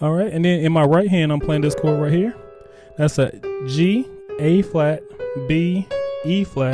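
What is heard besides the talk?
None of the usual background noises is heard.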